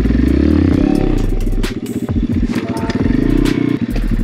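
Apollo Amazon pit bike engine revving hard during a wheelie attempt, a loud close buzzing drone that dips and climbs through throttle blips, with rattling clatter from the bike.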